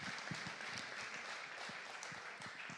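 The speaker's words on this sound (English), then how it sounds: "Give her a big applause," Conference hall audience applauding a guest speaker at a festival presentation, a steady, even wash of many hands clapping at moderate distance without a break.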